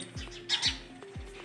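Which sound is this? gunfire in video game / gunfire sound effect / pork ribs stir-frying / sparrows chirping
sparrows chirping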